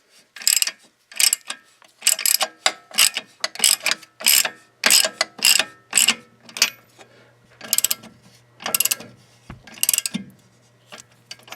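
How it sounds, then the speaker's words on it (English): A wrench ratchets as a strut bolt nut is tightened on a 1999 Subaru Legacy Outback, giving a close, loud series of sharp clicking bursts in uneven runs with short pauses between them. "So I'm going to put a wrench here, on the back of this bolt head here, and then I'll take the nut,"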